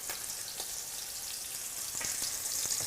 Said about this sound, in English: So these steaks are in the pan. They're looking phenomenal. You'll see we have some browning already happening on the bottom